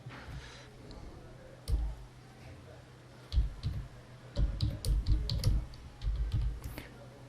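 Keys clatter on a Windows computer keyboard in uneven runs of close clicks and thumps, sparse at first and then quicker and busier, with no talking.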